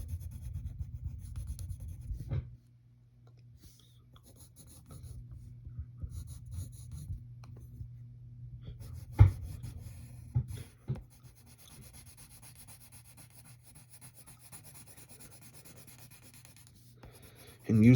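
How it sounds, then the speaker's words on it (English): A pencil moves across paper while shading dark areas of a cartoon superhero drawing with the side of the lead, a soft close scratching and rubbing, in steady passes with brief pauses and a few taps. "And use the side of your pencil when you blacken these gloves."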